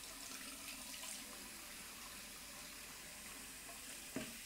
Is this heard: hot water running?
yes